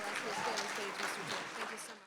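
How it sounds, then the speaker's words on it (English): A conference audience at a Muslim mental health gathering for community leaders claps in a brief round of applause, moderately faint, with a voice speaking over it. "So let's do another round of applause again for the vulnerability of that sharing"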